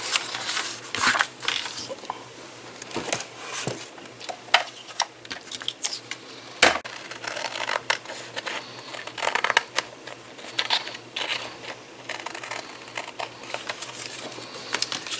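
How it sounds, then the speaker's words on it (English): Card pieces are pressed down with glue and trimmed with scissors for a Christmas card, a close run of irregular crisp snips, taps and paper rustles, fairly quiet and without talk. "now I'm just going to glue these down and then trim that off"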